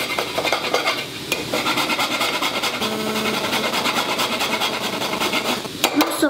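Whole nutmeg is rubbed by hand against a grater in a kitchen, making a close, steady run of rough scraping strokes with a few brief clinks of metal, and no talking.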